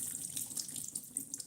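Tap water runs steadily into a kitchen sink while tapioca dumpling dough is washed to rinse out excess salt; a continuous, close hiss and splash with no talking.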